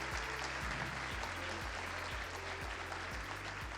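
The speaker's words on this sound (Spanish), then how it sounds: "El aplauso de los presentes." Audience applause at a formal economics award ceremony, a steady, fairly faint patter of clapping heard from a distance, with low rhythmic thumps underneath.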